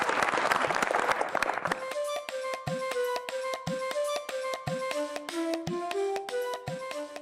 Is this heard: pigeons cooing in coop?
no